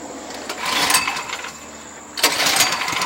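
Small 208cc snow blower engine, a tune-up subject, fires and runs with a steady broadband mechanical drone that cuts out briefly and then returns loud and close.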